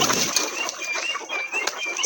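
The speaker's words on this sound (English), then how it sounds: "Leave the hens alone to feed." Hens feeding on a poultry farm, their scattered soft clucks, pecking and brief wing flaps close by in a busy, uneven patter with no one talking.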